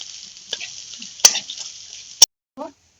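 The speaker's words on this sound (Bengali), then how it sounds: "কুচি করে রাখা পেঁয়াজ দিয়ে দেব" Chopped onion sizzles in mustard oil in a wok, a steady hiss broken by a couple of sharp clicks from stirring and a brief scrape near the end.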